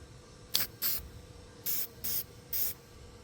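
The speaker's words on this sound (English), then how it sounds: "Gonna hit it with a good old-fashioned Loctite rust neutralizer." Loctite rust neutralizer sprayed from an aerosol can onto rusty metal on a 1977 Dodge Ramcharger, five short hissing bursts in an irregular rhythm, close and fairly loud against a quiet background.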